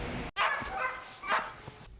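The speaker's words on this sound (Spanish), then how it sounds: "los perros de la raza Husky de la compañía Bear Hill Husky de Rovaniemi" Husky sled dogs at a Lapland husky farm near Rovaniemi bark and yip close by in a few excited bursts, with a brief whine between them.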